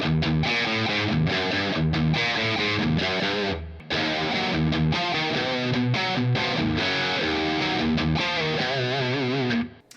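Heavily distorted electric guitar through an ADA MP-1 preamp with reverb, played as loud, continuous riffs and chords for ten seconds, with a short break partway through and a ringing tail at the end.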